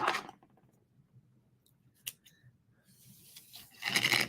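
Scissors cut navy-bordered ribbon in a quiet room: a few scattered snips and slicing strokes, close and fairly faint, building to a louder rustling cut at the end.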